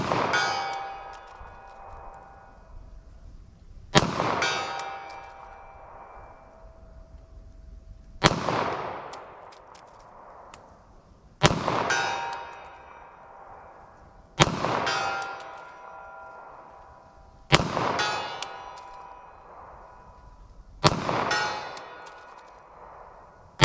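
Pistol shots fired at a shooting range with 9mm or .40 S&W ammunition, seven loud sharp reports spaced about three to four seconds apart, each ringing out and decaying before the next, with no talking.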